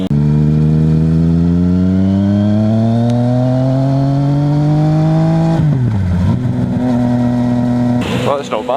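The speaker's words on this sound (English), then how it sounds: "it's got the full titanium system, and it's a lovely noise that you get off it." A 2015 Yamaha MT-09 Tracer (FJ-09) with a full Akrapovic titanium exhaust revs close by, its engine note climbing steadily for several seconds, then dropping and settling before a final blip.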